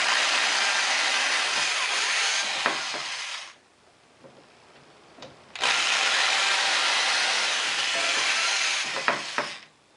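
Power drill boring pilot holes for screws while assembling a screen printing press, two loud sustained whirring bursts separated by a short pause, with small clicks and knocks between them.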